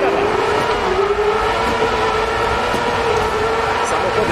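Race cars roar around a Nevada, USA track in the game DiRT 4, a steady loud engine drone with a slowly rising pitch, while a voice talks over the noise.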